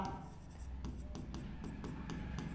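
A pen writing out a maths exam answer, producing a series of quick rhythmic scratchy strokes repeated about every quarter second, close up and quiet.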